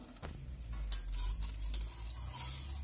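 A wire whisk stirring milk as butter melts into it in a pot on the stove, a soft continuous scraping and swishing with faint bubbling and a low hum underneath.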